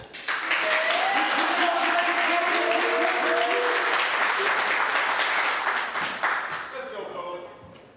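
A crowd applauding a poet at a live poetry slam, sustained loud clapping and cheering with voices calling out, fading over the final two seconds.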